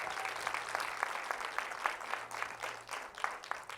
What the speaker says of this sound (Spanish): Den un fuerte aplauso al Rey de Reyes.